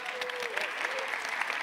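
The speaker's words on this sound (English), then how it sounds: "Can we give them a hand, a clap?" Audience clapping at a developers conference, a dense burst of applause from a large room, fairly loud and even, with a faint tonal whistle or feedback tone drifting beneath it.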